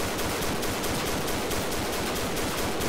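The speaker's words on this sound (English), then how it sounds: "Machine guns." Machine guns rattling in a World War One battlefield video game: continuous, steady rapid fire with no break, mixed into dense battle noise at constant loudness.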